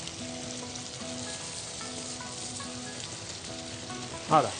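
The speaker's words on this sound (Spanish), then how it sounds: "Ahora rehogamos un poquito el arroz" Bomba rice sautéing in a pan, a steady soft sizzle and frying hiss running under faint background tones, ending with a brief louder clatter.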